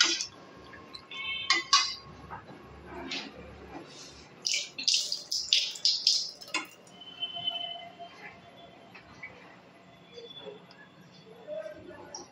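A spoon stirs and scrapes a paste of ground nuts and poppy seeds with green chilli in a pan while cooking a bean (sheem) dish, giving irregular clinks and scrapes that come close and fairly loud in bursts, with quieter kitchen noise between.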